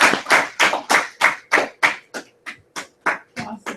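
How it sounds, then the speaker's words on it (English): A classroom group claps after a student presentation of a resort website project: about a dozen sharp, evenly spaced claps in a steady, fairly slow rhythm, close and clear, with no talking. "let's give them a round of applause"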